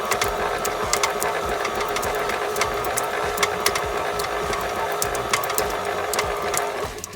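A stand mixer with its paddle beats cream cheese for New York-style cheesecake, a continuous loud motor whir with a rhythmic mechanical chatter, close by and steady, cutting off at the end with no talking.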